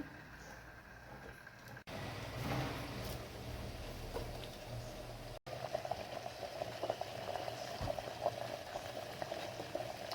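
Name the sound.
chivali greens balls cooking in boiling water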